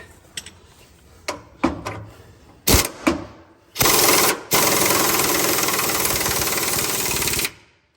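An impact gun drives torque arm bolts on a Peterbilt 362 cabover truck, starting with several short sharp bursts and then settling into a loud, sustained hammering rattle that runs for several seconds before stopping.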